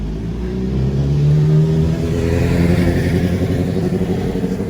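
A Yamaha R1M or BMW S1000RR sport motorcycle running on pump gas after recent tuning, its engine loud and close with a steady, rising drone and no talk over it.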